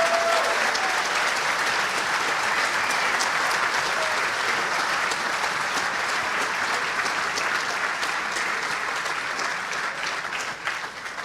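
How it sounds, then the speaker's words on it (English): A large audience at the Formula Student 2025 awards and closing ceremony breaks into sustained, dense applause that holds steady for the whole stretch, many hands clapping together and filling the hall before tapering slightly at the end. "can we have a great round of applause for all our partners?"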